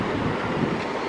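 Wind buffets the microphone on a breezy Atlantic beach at Isle of Palms, a steady, fairly loud rushing noise with no talk.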